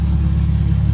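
A K20-swapped car with a 3-inch exhaust idles close by, a loud, steady low rumble with an even pulsing throb.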